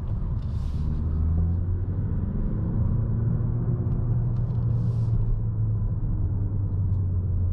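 A 2022 Mazda 3 e-Skyactiv X with manual gearbox and a Remus Hikari exhaust, cruising with a steady, deep engine hum and road rumble, close and even throughout, no voices.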